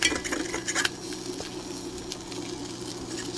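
A utensil scrapes cooked egg off a hot pan, with quick clattering metal scrapes at first and then a steady faint sizzle of frying underneath.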